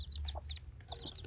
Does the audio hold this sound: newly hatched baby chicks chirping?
yes